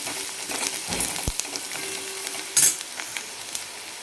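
A spoon stirs turmeric and red chili powder in a frying pan, giving soft scraping strokes over a light sizzle, with one sharp metallic clink near the middle.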